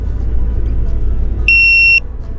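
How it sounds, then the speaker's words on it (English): A single loud, shrill electronic beep from a Tymate tire pressure monitor sounds for about half a second, standing out sharply over low background rumble. "It beeps really loud and it goes off"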